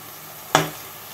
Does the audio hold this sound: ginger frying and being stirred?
yes